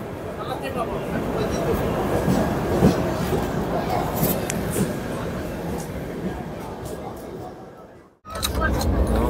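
A Doon Express train from Howrah to Haridwar stands at platform 1 of Bardhaman Junction, giving a steady, loud rumble that briefly drops out near the end before resuming, with a person talking over it.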